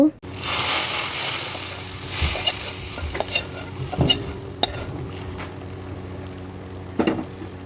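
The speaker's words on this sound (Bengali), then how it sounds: "এখন ভালো করে নেড়েচেড়ে বাগারগুলো তরকারির সাথে মিশিয়ে দিতে হবে" Fried onion tempering hits a lentil and greens curry with a sharp burst of sizzle, then quieter bubbling frying with intermittent scraping stirs of a spoon against the pot.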